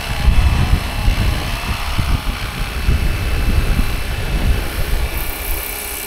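A Fly-Wing Bell 206 RC model helicopter flies low nearby, its rotor giving a loud, steady buzzing whir with rhythmic chopping pulses throughout.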